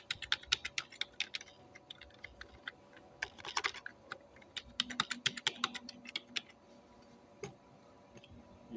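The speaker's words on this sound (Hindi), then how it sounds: "पासवर्ड जो है वो यहाँ पर एंटर कर लेते हैं दोबारा।" Typing on a computer keyboard to enter a password, a steady run of crisp close key clicks in irregular bursts, with no one speaking.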